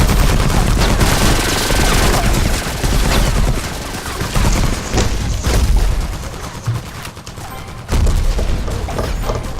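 Gunfire in the video game Battlefield Heroes, loud near continuous rattling bursts of automatic fire mixed with heavy booms, dense and close, briefly thinning before another burst at the end.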